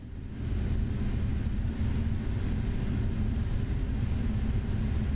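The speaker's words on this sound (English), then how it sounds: "Let's go ahead and start up engine number 2" Engine number 2 of a Boeing 777-300ER spooling up in Microsoft Flight Simulator, a steady deep turbine roar that stays loud and even after a quick rise at the start, with no talking over it.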